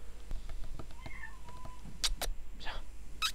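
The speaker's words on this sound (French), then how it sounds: "C'est un bon chat." A cat meows once in a short rising-falling call amid sharp clicks and background noise, with a voice briefly heard nearby.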